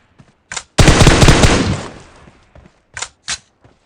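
Automatic gunfire in the battle royale game PUBG: a loud sustained burst of rapid shots lasting about a second, tailing off, followed by several short isolated shots before and after.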